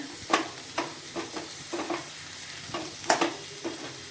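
A peanut and vegetable mixture for Bhogichi bhaji is stirred in a pan with roasted crushed peanuts added, quiet sizzling broken by a series of close spatula scrapes, no voices.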